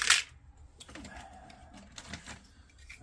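Relays are ripped off a scrap circuit board salvaged from a dryer and wall oven, giving a sharp crack at the start followed by a few lighter clicks and scrapes, close and fairly quiet.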